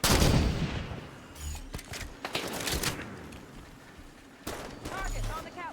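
Gunfire rattles in the video game Halo 5: Guardians, with rapid bursts and booming shots of varying strength spread across the clip. Voices talk over the combat.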